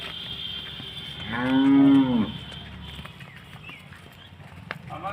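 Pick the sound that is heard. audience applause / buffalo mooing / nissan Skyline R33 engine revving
buffalo mooing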